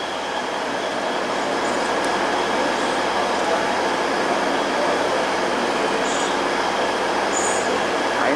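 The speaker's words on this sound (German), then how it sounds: "Einfahrt des Astoros nach München. ETR 610." An ETR 610 train rolls into Lindau station, giving a steady, loud broadband rumble of wheels and carriages that holds throughout, with faint high squeals appearing near the end.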